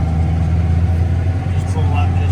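A tractor engine drones steadily at a low, even pitch while pushing a loaded blade through moist dirt, loud and close throughout.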